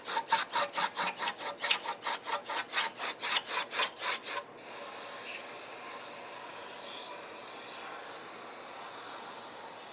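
Cloth rubbing gasket surfaces clean on a Mazda CX-9 engine, a quick run of about fifteen rhythmic close scrubbing strokes, then a soft steady hiss.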